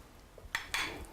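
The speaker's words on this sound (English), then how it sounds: "we're going to take our collard greens and we're going to spoon it into our bowl" Cooked collard greens are spooned into a bowl: two sharp metallic scrapes and clinks of a spoon against dishware, close and fairly quiet, with a soft thud of greens between them.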